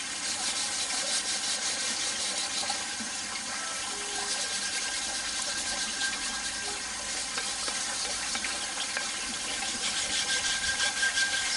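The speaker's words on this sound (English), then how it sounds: "Get your wire brush, give it a bit of that." Steady, dense scratchy scrubbing of a wire brush against a metal magnet-fishing find, continuous and close, with no pauses or voices.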